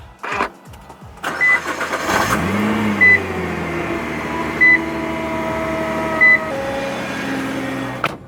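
Nissan GT-R engine cranking and firing up with a loud burst, then settling into a steady idle as a chime beeps at intervals over the running engine.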